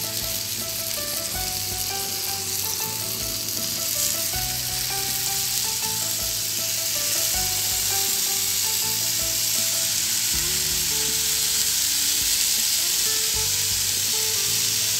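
Paneer tikka roasting in a pan over medium flame makes a constant, close hissing sizzle, with background music playing underneath.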